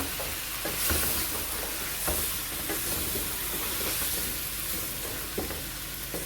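Spiced masala chicken frying on low heat, with a loud continuous sizzle and hiss and occasional soft stirring scrapes underneath.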